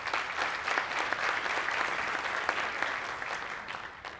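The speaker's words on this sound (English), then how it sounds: "Round of applause for Justin Briggs" A conference audience claps in a sustained round of applause, many hands fairly close, steady and even throughout, gradually thinning toward the end.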